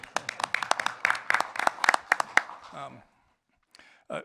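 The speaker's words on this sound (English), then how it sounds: "So you deserve a round of applause." Scattered clapping from a small audience at a Keizer City Council meeting, sharp uneven claps for about two and a half seconds, then a brief voice and a near pause.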